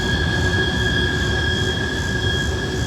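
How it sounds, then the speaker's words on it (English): A long freight train rolls steadily past close by, with a continuous loud rumble of wheels on rail and high steady squealing tones from the wheels throughout. "Wow, what a train."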